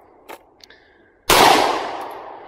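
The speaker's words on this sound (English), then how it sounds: "I'll shoot it. It'll bump fire on you almost." A single sharp, loud 9mm handgun shot at an outdoor shooting session, with a ringing decay tail, preceded by a few faint clicks and small handling noises.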